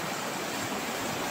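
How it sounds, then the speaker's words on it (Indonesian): Heavy flood water rushing down a river in Karangasem after torrential rain, a steady broadband roar with no pauses, close and fairly loud, with no voices over it. "Banjir besar."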